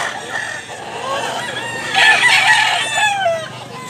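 A rooster crows loudly in a drawn-out, wavering call near the middle, over steady outdoor background noise at a gamecock market in Mantalungon, Cebu.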